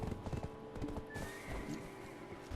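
Horse hooves clip-clop in Black Desert Online, a steady trotting rhythm at moderate volume mixed with a whinny and game ambience.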